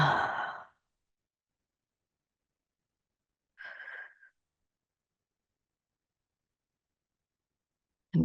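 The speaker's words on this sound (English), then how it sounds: "Take a few rounds of breath." Deep breaths taken during a stretching exercise, with a long sigh-like exhale at the start, a shorter breath near four seconds, and another beginning at the end, separated by silence.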